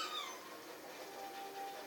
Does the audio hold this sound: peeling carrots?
no